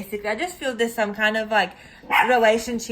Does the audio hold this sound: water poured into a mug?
no